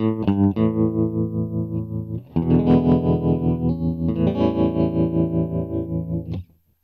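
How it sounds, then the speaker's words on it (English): Electric guitar through a Donner Cyclops modeling mini amp with the tremolo effect engaged, sustained chords pulsing in steady volume waves, loud and close, with a brief gap before a second held chord that rings out. "Okay, so now we're over to tremolo, and it just gets louder."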